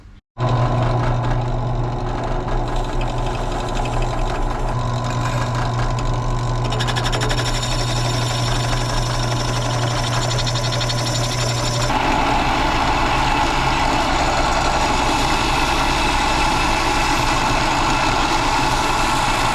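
A drill press motor hums and whirs steadily at close range spinning a metal part, its pitch shifting a couple of times as it keeps spinning, with no talking.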